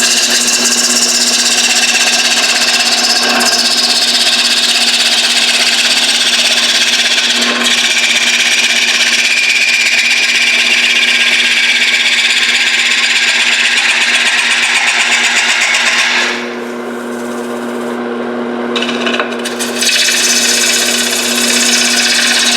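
An out-of-round wood bowl spins on a lathe while a 5/8 D-way bowl gouge cuts it, giving a loud, steady whirring hum layered with rough cutting noise that dips and shifts briefly near the end.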